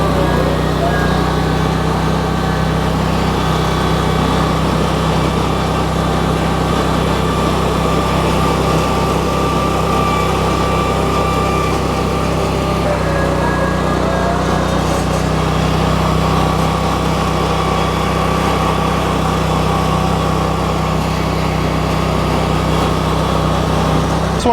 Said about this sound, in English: I'm going to start it up and take off down the yard.